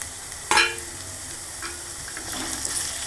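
Potato and spinach are stirred in a frying pan, a sharp scrape of the spoon followed by a continuous soft sizzle, with a few more faint stirring strokes, close by and without talk.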